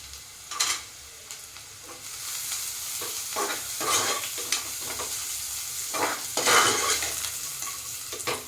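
Cashews fry in hot ghee in a pan for ghee rice, giving a steady sizzle broken by scraping stirs of a spoon at irregular intervals, close and moderately loud.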